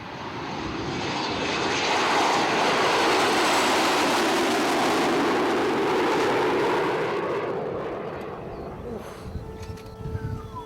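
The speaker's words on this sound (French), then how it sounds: "L'Alpha Jet, c'est l'avion qui sert à former les pilotes de chasse." An Alpha Jet military training jet roars past, its engine swelling loud over several seconds, holding a broad rushing howl, then fading away into the distance.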